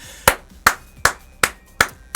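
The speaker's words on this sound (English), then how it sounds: "I gotta give a clap right here." Six sharp hand claps at an even, unhurried pace, loud and close, each a crisp isolated smack with a short decay and nothing else audible.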